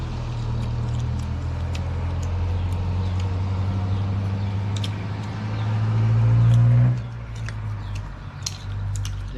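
Traffic passing along a road beside a Thai home kitchen, a steady loud engine rumble swelling as a vehicle draws close and passes, then easing off, with faint background clatter throughout.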